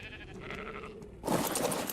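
A sheep in the ARK survival game bleats loudly and close, a single bleat after a quieter stretch of ambient game sound.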